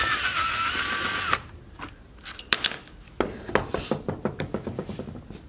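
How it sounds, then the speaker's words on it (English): A bolt is taken off the gas tank of an Echo HC-155 hedge trimmer: a whirring power tool stops, then a series of sharp clicking, ratcheting taps that speed up into a rapid rhythmic run, close and fairly quiet. "now we're going to take off the last bolt for the gas tank."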